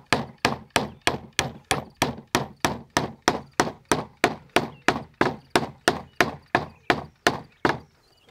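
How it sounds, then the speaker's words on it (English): Nails hammered into soft wood: about twenty sharp, evenly spaced blows in a steady rhythm, close and loud, with no talking. "I'm going to put some nails through here"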